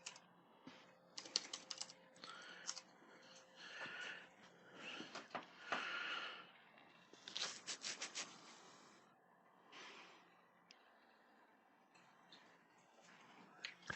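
Computer keyboard typing in bursts of quick, close clicks and tapping, pausing and resuming irregularly over a quiet room background.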